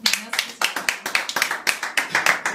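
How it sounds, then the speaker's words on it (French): Applause for a performer at an artists' mutual-aid association showcase, a small group clapping in distinct rhythmic bursts, close and fairly loud, with a voice faintly underneath. "On peut l'applaudir bien fort."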